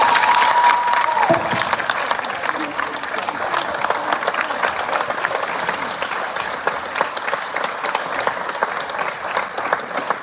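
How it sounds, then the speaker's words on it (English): An audience at a signing day gives a sustained round of applause with some cheering, dense even clapping filling the room for about ten seconds after a short tone at the start. "So give them one more round of applause"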